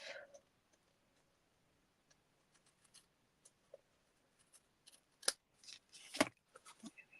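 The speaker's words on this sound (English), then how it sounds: "these scissors are really good for getting just that little bit off" Sharp scissors trim a thin sliver off card stock for a handmade greeting card, giving a few quiet isolated snips and then a louder pair of crisp cuts near the end, close up with no talking.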